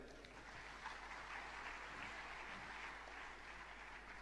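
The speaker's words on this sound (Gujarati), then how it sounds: "ખાસ જોરદાર તાળીઓ થવી છે" An audience at a live music concert claps continuously for a duet performance, a steady and somewhat distant wash of applause.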